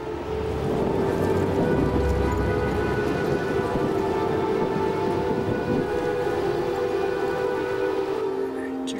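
Thunderstorm in South Tyrol with steady, loud rain and low rumbling thunder filling the whole stretch, a continuous dense roar with a sustained tonal hum running underneath.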